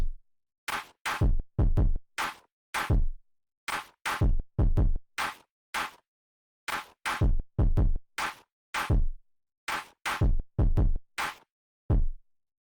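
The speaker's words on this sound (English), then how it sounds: "then we have our drums for this drop" Punchy drum hits from an electronic music drop repeat in a tight, driving pattern, with short bursts separated by clean silence and no other sounds or voices.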